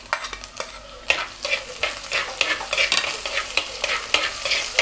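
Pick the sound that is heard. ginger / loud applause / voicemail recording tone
ginger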